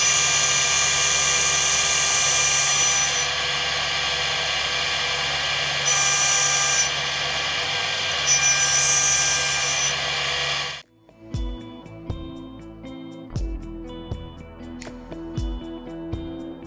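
A desktop CNC mill makes a fine 0.3 mm finishing pass on the end of a custom fuel rail for a classic car, giving a loud, steady high-pitched whine that shifts slightly in pitch before stopping abruptly, followed by scattered clicks and knocks.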